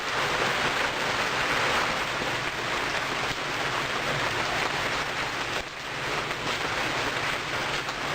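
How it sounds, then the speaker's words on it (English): Steady outdoor rain falls continuously at a constant, even level, a broad hiss of drops on surfaces with no talk, recorded next to a 2006 Kia with a dead battery. "Let's see, it's raining outside."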